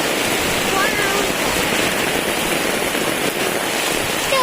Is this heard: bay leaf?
no